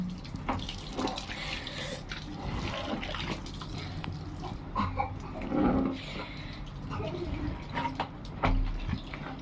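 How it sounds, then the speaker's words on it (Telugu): Water poured from a tap over soaking ingredients, a steady close splashing and running stream with shifting gurgles and a sharper splash near the end, with no talk. "కొంచెం వాటర్ వేద్దాం"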